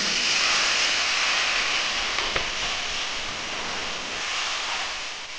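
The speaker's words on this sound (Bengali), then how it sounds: "এখন আমি জল দিয়ে দিচ্ছি।" Water being poured into a pan of pabda fish curry with turmeric and dried chilli, a steady broad splashing hiss lasting several seconds, with one brief clink partway through.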